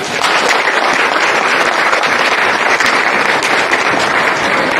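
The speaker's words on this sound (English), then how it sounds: "So let's give that a round of applause." A county fair crowd at a king and queen coronation breaks into steady, loud applause, a dense wash of clapping that holds for several seconds without letting up.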